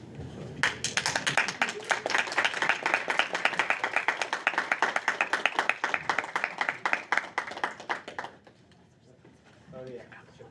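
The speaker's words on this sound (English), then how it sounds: "And we're going to clap in a second." A room of people at a student senate session claps in a brisk burst lasting about eight seconds, fading out before a voice speaks briefly at the end.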